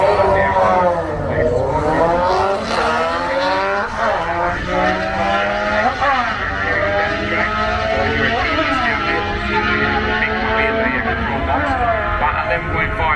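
A Suzuki GSX motorcycle races at a drag strip, its loud engine repeatedly revving and shifting with rising, sweeping pitch under an announcer's commentary.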